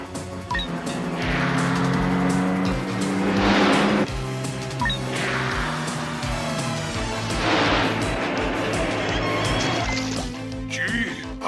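Cartoon cars race along with revving engines, whooshing passes and splashy bursts, loud and busy with repeated surges, while voices talk over the action.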